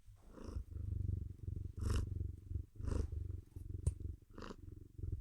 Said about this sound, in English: now she's like purring.